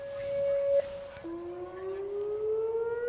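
A distant tornado warning siren wails steadily on one pitch, then drops and slowly rises again, ringing faintly over a low outdoor rumble in St. Louis County.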